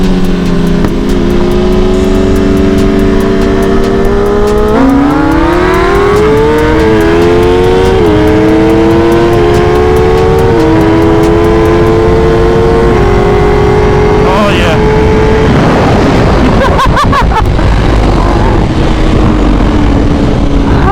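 A Kawasaki Ninja ZX10R running on E85 screams loudly at a race outing, its engine pitch climbing through shifts and then fading as it passes, with heavy wind and crowd noise around it.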